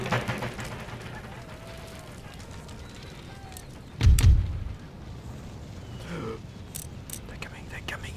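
A musket and artillery volley in the video game Empire Total War, heard as one short, heavy, low boom rising out of a faint, hissing battlefield background, with a few softer distant cracks afterward.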